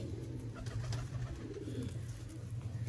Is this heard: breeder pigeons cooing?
yes